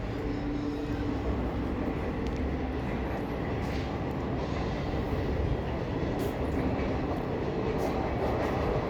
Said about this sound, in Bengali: দিনরাত ট্রেনের আওয়াজ শোনা যায়